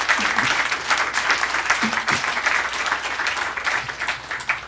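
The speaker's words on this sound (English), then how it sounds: "I'd like to ask for a round of applause for our people here." An audience at a seminar on DSD high-resolution downloads at the RMAF13 audio show bursts into sustained, loud applause, a dense patter of many hands clapping that fades toward the end.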